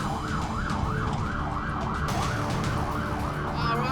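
An Australian ambulance siren wails in a steady, rapid up-and-down cycle, loud and continuous throughout, heard over road noise with no one speaking.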